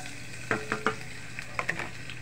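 Garlic sautés in a pan, a low steady sizzle broken by several short scraping stirs of a utensil, fairly quiet and close with no voices.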